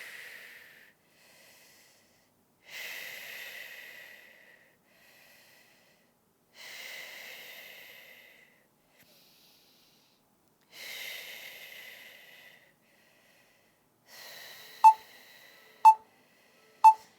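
Breathing exercise during a birth-prep pushing workout: slow, breathy exhalations repeated about every four seconds with silence between, followed by three sharp electronic beeps near the end.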